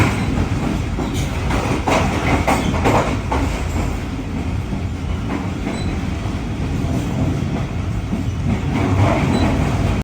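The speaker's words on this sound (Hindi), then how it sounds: "जो खानपुर से खैबर मेरी ट्रेन थोड़ी सी आगे गई थी वो वापस फिर खानपुर की तरफ जा रही है" A passenger train runs on the rails between Khanpur and Khyber, a loud steady rumble with rhythmic clatter and a faint squeal, close by and without talk.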